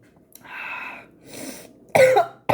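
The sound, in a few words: coughing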